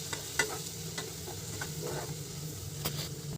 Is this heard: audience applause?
no